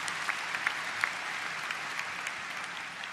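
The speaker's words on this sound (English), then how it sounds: "Let's give them a round of applause." Audience applause at a university spring commencement ceremony for health professions graduates, a moderately quiet, steady patter of many hands with a few sharper individual claps standing out, no talking over it.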